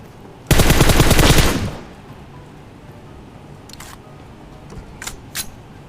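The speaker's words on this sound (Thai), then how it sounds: "ไอ้เขายิงกันที่ไหนวะ" Automatic gunfire from a PUBG Mobile solo-versus-duo match: one loud, close burst of rapid shots lasting about a second, followed by quieter ambient game noise with a few faint distant cracks.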